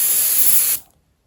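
A hissing burst of spray paint as white paint is sprayed onto a homemade Whopper Plopper fishing lure, a steady close spray lasting under a second before cutting off abruptly into silence.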